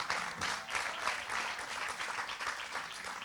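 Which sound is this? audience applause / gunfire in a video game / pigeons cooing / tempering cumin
audience applause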